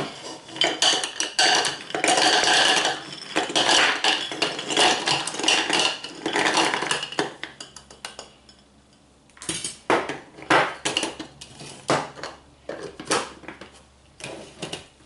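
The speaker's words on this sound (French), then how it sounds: "Donc tout d'abord, on va commencer par mixer les bonbons." A blender grinds Tagada strawberry candies in loud, rattling pulses, pausing briefly midway before resuming in shorter, choppy bursts.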